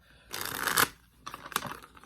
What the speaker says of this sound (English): I did pre-shuffle these, but I'm going to do a quick shuffle